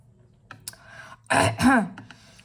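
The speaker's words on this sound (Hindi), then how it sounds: "आज खांसी बहुत आ रही है मुझे" Two harsh coughs, one right after the other, close and fairly loud, with a quiet room and faint sounds before them.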